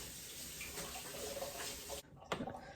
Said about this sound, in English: I'm gonna wash my hands again so I can chat for a second.